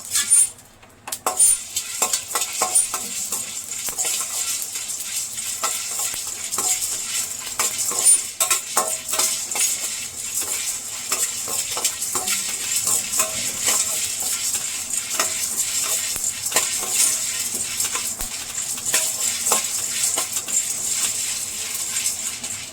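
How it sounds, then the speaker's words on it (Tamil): Dry cumin seeds stirred and scraped around a hot pan, with steady light crackling and frequent small clinks of a utensil against metal, close and continuous. "இது வந்து ஜீரகம் போட்டு அதையும் நல்லா வறுத்துக்கிறாங்க."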